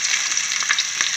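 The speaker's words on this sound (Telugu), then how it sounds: "ఇప్పుడు ఉల్లిపాయలు వేసేసుకుంటున్నాను." Onions frying in a freshly washed pan, a steady close hiss and crackle of sizzling with small pops, no talk.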